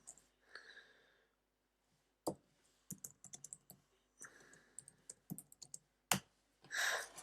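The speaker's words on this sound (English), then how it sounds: "I'll just type that in the comments." Typing on a computer keyboard, irregular bursts of close key clicks and taps separated by short pauses, with some faint breathing or murmuring in between.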